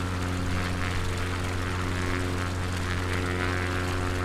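Steady, continuous drone of a propeller aircraft engine held at reduced throttle in Microsoft Flight Simulator 2020, a constant buzzing hum with no talk over it.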